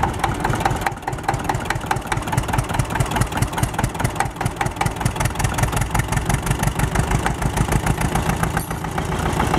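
A Zetor 25A tractor engine runs close by with a steady, rapid chugging beat, loud and even throughout with no talk over it.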